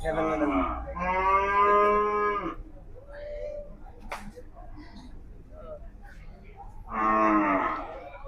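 A cow at a busy cattle market moos loudly twice, one long low call near the start and another near the end, with people talking in between and around it.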